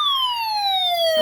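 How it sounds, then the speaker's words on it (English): A weather radio emergency warning alarm tone sounds loud and alone, a single sustained electronic tone holding steady while its pitch sags slightly over time. "The National Weather Service in Chanhassen, Minnesota, has just activated the warning alarm tone on all weather radio stations"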